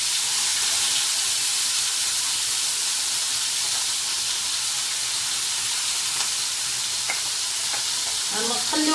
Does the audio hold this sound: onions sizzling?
yes